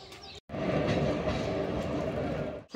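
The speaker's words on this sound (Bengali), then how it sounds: "আর আজকের আমার জার্নি হবে ট্রেন নাম্বার 13431 বালুরঘাট এক্সপ্রেস" The Balurghat Express, train 13431, rolls along at Azimganj railway platform, a loud steady rumble with rhythmic wheel clatter that starts after a brief gap and fades out at the end.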